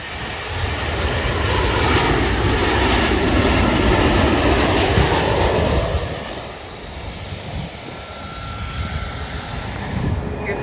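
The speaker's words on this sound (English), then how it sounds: "This is a Southwest Airlines Boeing 737-700 coming from Albuquerque." Southwest Airlines Boeing 737-700 jet arriving from Albuquerque at Dallas Love Field, a loud, steady engine roar that holds for about six seconds, then drops away to a lower rumble as it passes.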